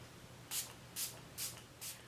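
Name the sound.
setting spray spritz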